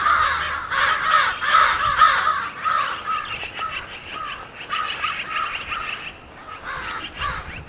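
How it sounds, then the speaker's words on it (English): Crows cawing outdoors, returned from migration: many harsh overlapping caws in rapid series, loud and fairly close, continuing throughout with brief lulls. "something strange the crows are doing because they've just returned from migration"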